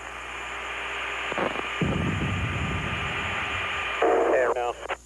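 A Harrier jet roars as a steady loud engine drone, with a brief heavier rumble partway through and a shift near the end, overlaid with radio-like cockpit chatter.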